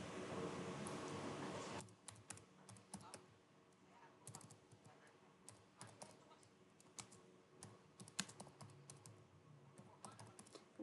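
A computer keyboard is typed on in quick, close clicks with a final Enter press, after a brief burst of louder noise at the start.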